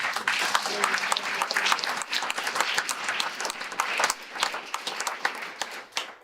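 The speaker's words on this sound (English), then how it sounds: "more round of applause, please" Warm applause from a university audience at a State of the University address, many hands clapping steadily for several seconds, with a few voices briefly rising under it.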